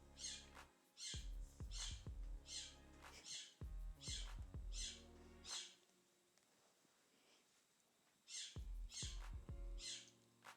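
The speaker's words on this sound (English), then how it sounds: "my roommate's bird is deciding to finally make some noise out of the day." A pet bird squawks indoors in a run of sharp, loud, repeated calls, then goes quiet for a few seconds before a last burst of squawks. No one talks over it.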